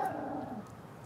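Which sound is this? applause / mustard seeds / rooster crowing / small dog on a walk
small dog on a walk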